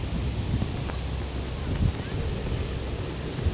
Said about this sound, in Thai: มันมีลมค่ะเพื่อนๆหนาว